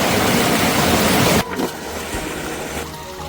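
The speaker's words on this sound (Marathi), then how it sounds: "बघा कसला प्रेशर आहे पाण्याचा" Strong, pressurized water gushes loud and close in a dense steady roar, then drops abruptly to a softer, lower rush partway through.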